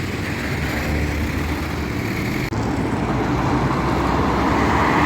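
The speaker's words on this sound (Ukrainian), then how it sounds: "Транспорта дуже багато їде." Dense evening road traffic on a busy street in Odesa, a steady loud roar of passing cars and buses close by, continuous with no pauses and no talk.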